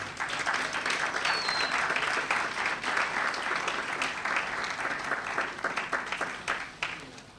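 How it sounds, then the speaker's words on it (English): An audience applauds the Masters in Residence performances at a Utech event, a dense, steady wash of many hands clapping that carries on for several seconds before thinning slightly toward the end. "I want you to applaud the Masters in Residence performances here today"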